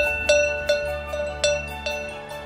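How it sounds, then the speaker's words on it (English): Cowbell struck about five times at an uneven pace, each hit bright and metallic with a short ring, sounding over a steady background music bed. "when you hear the sound of the cowbell,"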